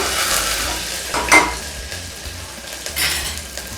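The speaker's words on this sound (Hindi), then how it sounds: "उसके बाद फिर मैं डालूंगी ये कटे हुए प्याज, थोड़ा सा हिला लें इसको।" Chopped onions go into hot oil with mustard seeds and fenugreek seeds for Rajasthani dal, sizzling steadily while a spoon scrapes and stirs the pan in a couple of louder strokes.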